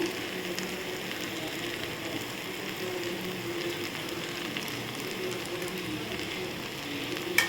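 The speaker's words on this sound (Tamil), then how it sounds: "சேர்த்தாச்சு இப்போ நல்லா வதக்கிக்கலாம்" Turkey berries (sundakkai) sautéing in hot oil in a pan give a steady, soft sizzle with faint crackle throughout, close and even, no one speaking.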